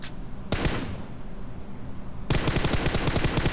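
Automatic weapons fire in a battle royale video game as a single short burst, a pause of steady background noise, then a long rapid loud volley of shots.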